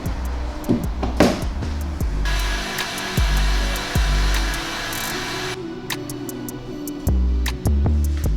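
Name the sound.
heat gun heating a car bumper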